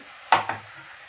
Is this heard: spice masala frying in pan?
yes